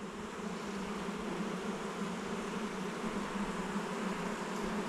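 Honey bees buzz steadily and continuously at a newly established hive, a dense close drone holding even loudness throughout with no voices.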